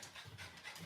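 A small dog panting hard outdoors in hot weather, a quick rapid rhythm of close breaths with no talk over it.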